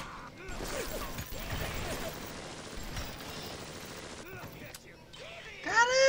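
Video game gunfire crackles in rapid bursts, some close and some more distant, followed by a louder burst near the end, with players talking over the shooting.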